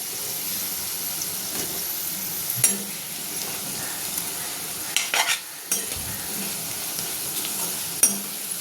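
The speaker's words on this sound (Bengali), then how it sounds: "ফোড়নটা একটু হালকা ভাজা ভাজা করে নেব।" Whole cumin, dried red chili and bay leaf tempering fry gently in hot oil, a steady soft sizzle running throughout with occasional louder crackles and stirring scrapes, close by and without speech.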